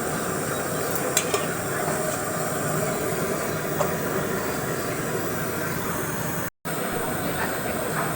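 Pui shak (Malabar spinach) curry with potato and pumpkin simmers in water under a lid, giving a steady, even bubbling hiss with faint ticks throughout and a brief dropout near the end.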